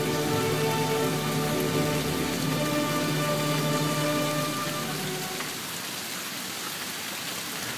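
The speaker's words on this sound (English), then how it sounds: "And it still rains" Steady rain pours down outdoors near a pavilion, a dense, even hiss of drops that carries on throughout, with some faint tonal music underneath that fades partway through.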